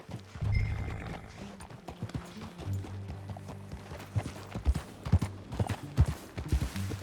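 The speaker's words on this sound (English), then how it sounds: "That new horse?" Horse hooves clip-clopping in Red Dead Redemption 2, irregular close hoofbeats over a low in-game music drone, with a snort or whinny early on.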